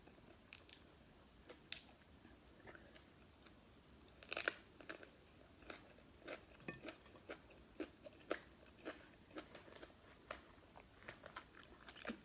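Biting and chewing on liver cooked with spinach-like greens, a close series of crisp, irregular crunches and wet chomps recurring every second or so, with no talking.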